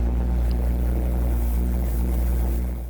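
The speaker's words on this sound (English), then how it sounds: "Using the augmenter like an afterburner and injecting more gas into the exhaust, which will hopefully double the thrust for some reason." A homemade pulse jet mounted on a jet boat, with an augmenter injecting extra gas into the exhaust, gives a loud, steady, deep roaring drone that holds without a break and with no voices.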